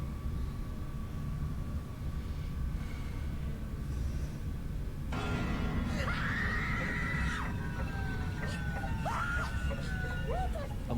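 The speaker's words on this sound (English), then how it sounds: "the camera holder runs off screaming." A person screams in a played-back video clip, a rising, sustained cry that breaks out midway and continues with several wavering bursts over steady background noise.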